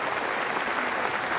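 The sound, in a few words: cricket crowd applauding batsman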